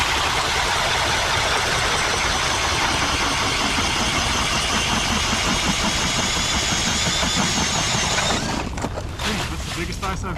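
Ice auger grinding through unusually thick lake ice, a loud continuous motorized drone that cuts off near the end into a few scraping knocks.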